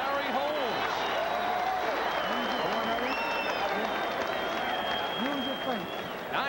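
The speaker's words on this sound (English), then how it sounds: "And the crowd with a cheer, and it's going for Larry Holmes." Boxing crowd cheering in the ninth round of Holmes v Mercer, a dense continuous roar of voices and applause filling the arena while a commentator talks over it.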